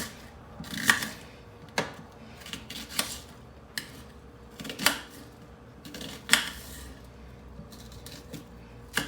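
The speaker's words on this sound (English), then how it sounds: "now cut up your onion" A knife chops an onion on a board, giving a dozen or so crisp, irregular taps that ring slightly against the surface, close and clear, with no talk.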